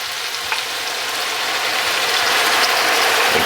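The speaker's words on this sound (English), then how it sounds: "Now we're going to just deglaze the bottom of that pan just a touch." Hot pan used for cooking sausages being deglazed with liquid, a steady broadband sizzle and hiss that holds evenly and swells slightly toward the end, close and continuous with no talking.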